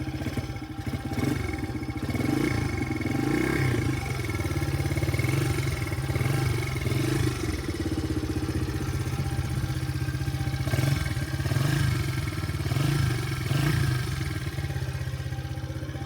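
A 1998 Honda XR80R small dirt bike engine idles and putters steadily close by, with light clattering and occasional small swells in revs.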